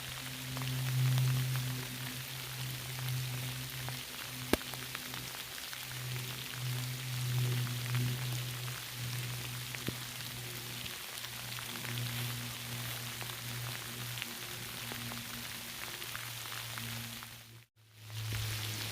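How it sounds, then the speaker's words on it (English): Steady rain falls along the Appalachian Trail, a dense continuous patter and hiss close by that stays even throughout, with occasional louder drops and a low hum underneath, no talking. "it's raining pretty good right now"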